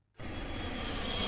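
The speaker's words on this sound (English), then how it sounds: "Airplane!" An airplane's broadband engine roar kicks in abruptly after a short silence and holds steady and fairly loud for about a second, with no voices over it.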